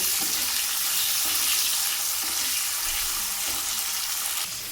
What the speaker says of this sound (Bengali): ওই লঙ্কাটাকে খুব ভালো করে ভেজে নেব